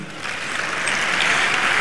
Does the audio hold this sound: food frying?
no